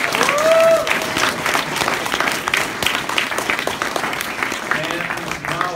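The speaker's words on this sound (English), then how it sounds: "let's give a big round of applause to Adam" Audience applause at a Stanford event, a dense sustained wash of clapping from a crowd, loud and continuous throughout with voices faintly mixed in.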